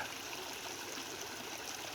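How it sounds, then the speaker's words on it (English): Water overflowing a pond spillway after heavy rain on a farm, a steady, continuous rushing stream like a small waterfall, loud and unbroken throughout with no talk. "that's all water overflowing there"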